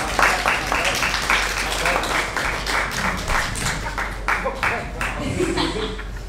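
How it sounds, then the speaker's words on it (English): An audience at a krump history and culture panel claps for a named dancer, a dense burst of many hands that stays steady and loud, with voices talking over it. "Everybody give a round of applause for Kaos."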